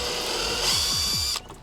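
A small screw remover tool backing out 10 mm OEM screws on a BMW G80 M3, a short close whirring buzz that stops abruptly.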